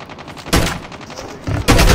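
Gunfire in the mobile shooter game Call of Duty Mobile, sniper fire in a multiplayer match: two loud, close bursts of shots, separated by a brief quieter stretch, with no talk over them.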